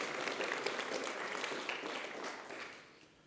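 Brief audience applause at an evening product event for a space imaging company, a soft, fairly distant patter of clapping that fades out toward the end.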